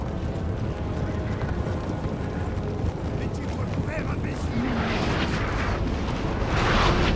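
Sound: artillery cannon fire in the video game Napoleon Total War

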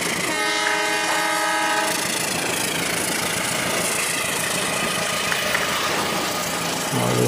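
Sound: blue train passing on tracks

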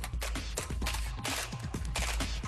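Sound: simmunition rounds fired from real weapons with special barrels

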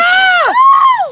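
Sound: crowd screaming and cheering during total solar eclipse

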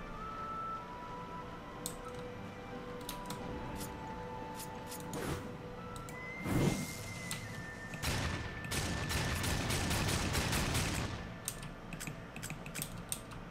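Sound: gunfire in Darksiders 2 video game

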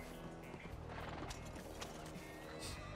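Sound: horse neighing and hooves in a video game

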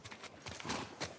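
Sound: horse hooves clip-clopping in video game The Last of Us Part 2

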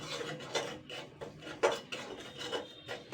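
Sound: stirring semolina in a pan

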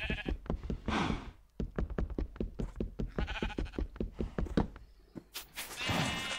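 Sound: sheep bleating in the video game Minecraft

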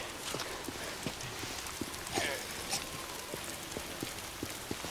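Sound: rain falling in a video game

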